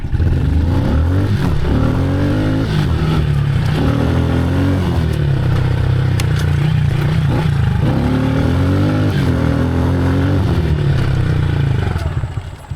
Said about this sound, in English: And this engine really does like revving out, so I try to let it rev as much as possible